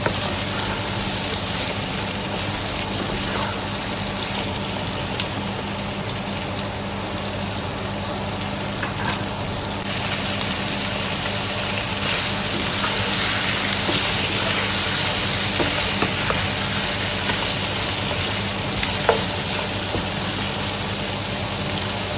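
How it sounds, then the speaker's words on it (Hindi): Onion and three colours of bell pepper stir-fry over a high flame for chicken shashlik, a broad continuous sizzle mixed with a steady burner roar and occasional faint scrapes. "अब इनको हम स्टेयर फ्राई करेंगे हाई फ्लेम के ऊपर ही।"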